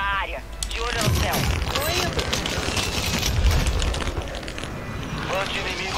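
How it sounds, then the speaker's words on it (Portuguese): Rapid gunfire from an exchange of shots in the video game Warzone Resurgence, dense and continuous across the clip, with someone talking over it throughout. "Estão trocando tiro com alguém"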